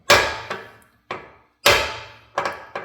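Two ball peen hammers clang together in five sharp metallic strikes, with bright ringing decay after each, spaced irregularly and heard up close with no talking.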